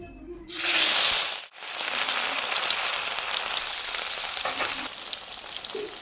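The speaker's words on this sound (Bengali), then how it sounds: "তেল গরম হয়ে গিয়েছে, এখন আমি মাছগুলো দিয়ে দেব" A brief quiet gap, then a burst of crackling as rohu fish hits hot white oil, settling into a loud, even sizzle that continues without speech.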